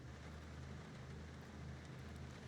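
Steady, even rain hiss in a multiplayer video game with a low rumbling undertone, fairly faint and continuous throughout, no voices.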